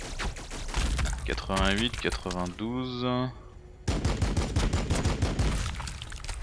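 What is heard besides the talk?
gunfire in Warhammer 40k BattleSector video game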